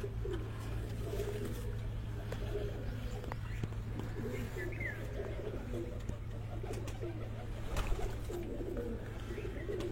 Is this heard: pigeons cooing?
yes